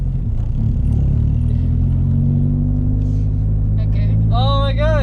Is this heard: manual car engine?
yes